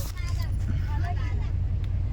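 Car rolling along after starting on the way out from a village wedding, a low steady engine and road rumble heard from inside, with people chatting over it.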